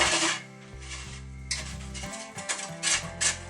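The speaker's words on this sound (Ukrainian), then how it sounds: "Натираю гарбузець." Raw pumpkin rubbed against a kitchen grater for homemade cookies, giving repeated rasping scrape strokes, some sharp and near, over a steady musical backing.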